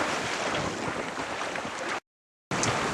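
A Westerly Fulmar sailboat sails in the wind off Scotland, with steady loud rushing of wind and water across the hull and microphone, broken by a short gap.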